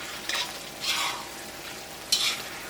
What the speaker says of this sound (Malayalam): തീ നന്നായിട്ട് കൂട്ടി വെച്ചിട്ട് ഇങ്ങനത്തെ നന്നായിട്ട് മിക്സ് ചെയ്യാം